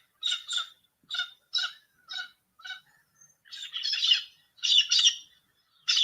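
A galah cockatoo squawks in a run of harsh, close calls, several short ones in a row followed by longer raspy bursts, with no talking.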